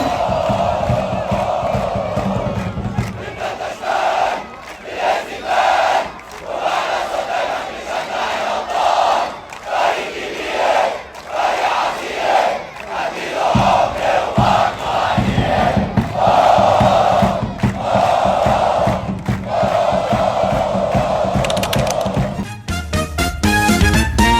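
Al Ahly fans roar and chant in rhythmic waves across a stadium, a massed crowd sustained for many seconds with surging swells and brief dips, ending in a burst of clattering noise.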